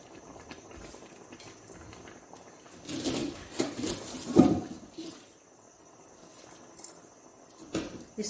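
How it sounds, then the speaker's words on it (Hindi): Sela rice boiling in a pot of water for Bannu beef pulao, a soft bubbling simmer with louder gurgling bursts midway over steady background hiss. "ये देखिए पानी में चावलों में उबाल आ चुका है।"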